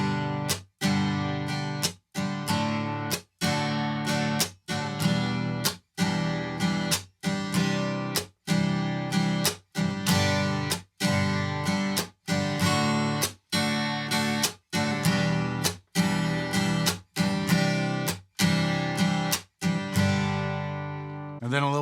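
Acoustic guitar playing a repeating strum pattern with percussive muted strums on beats two and four, a sharp choked chuck cutting through the ringing chords at an even, regular pulse, close and alone.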